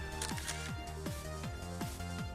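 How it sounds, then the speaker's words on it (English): A phone camera shutter clicks in a quick, regular series of crisp, faint snaps over a low steady background. "The shutter of my phone's camera captured it perfectly."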